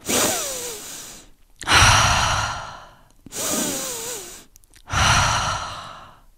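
Forceful breathing, drawn in hard through the nose and pushed out through the mouth, four strong close breaths alternating in and out in a steady slow rhythm, with no talk.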